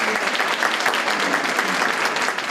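A graduating class of 2017 applauds itself at a ceremony, dense loud clapping from many hands, steady and continuous for the whole moment with no voices rising above it.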